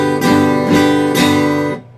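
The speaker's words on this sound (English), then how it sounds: "if I push really hard into the chord and I hit it really hard, it sounds like this" A guitar chord struck very hard three times in quick succession, each stroke a loud, bright, harsh attack that rings briefly before the last one is muted.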